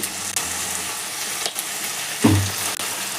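Steady sizzling of washed country chicken frying in a pan with turmeric, with a sharp clatter and a burst of louder frying partway through.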